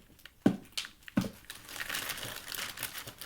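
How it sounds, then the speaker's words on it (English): Tape peeled away from a Voxelab Proxima SLA resin 3D printer, with two sharp crinkling rips followed by a longer run of steady crackling and tearing, close and fairly loud. "Let's just peel off some of this tape as well."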